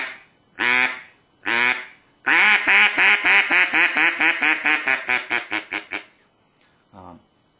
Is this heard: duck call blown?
yes